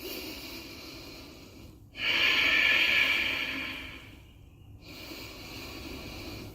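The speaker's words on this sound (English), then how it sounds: "Take a couple deep breaths here." Deep breathing during a yoga session: one long, loud breath rushes through the middle of the clip, with quieter breaths and soft room noise around it.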